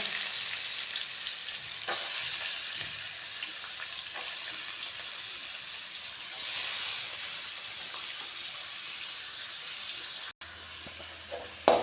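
Onions and mustard seeds fry in a pan with a steady hissing sizzle and occasional stirring scrapes, ending in a brief knock.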